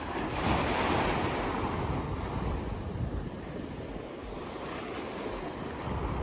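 Ocean waves washing onto a beach, a steady broad roar of surf with some wind buffeting the microphone, continuous and fairly close with no voices.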